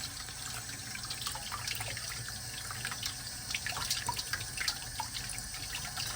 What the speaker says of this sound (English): Just want to run your water and get all that out of there.